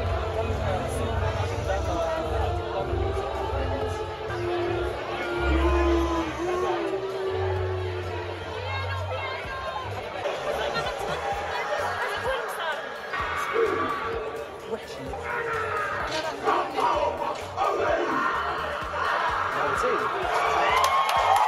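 Excited crowd noise fills a pub during the Rugby World Cup final on screens: steady chatter and murmuring with bursts of cheering and whoops rising near the end, under someone talking close up.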